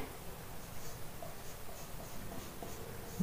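Chalk or marker scratching Hindi words onto a classroom board during a Sanskrit grammar lesson, a soft continuous scrawl with faint taps, fairly quiet and close, no talking.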